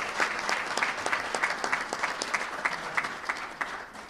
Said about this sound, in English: Let's give him a huge round of applause for coming.